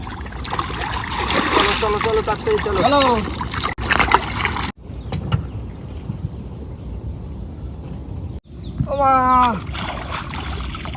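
Boat setting out onto the water in the Sundarbans jungle, with splashing and sloshing around the hull and a steady engine-like drone. Voices talk over it, and there are sharp cuts partway through.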